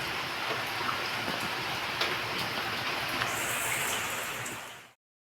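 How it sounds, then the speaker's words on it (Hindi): Heavy rain pours steadily outside a home in India, a dense, even hiss with scattered drips and taps, continuous for about five seconds before cutting off. "ये देखिए बारिश कितनी हो रही है"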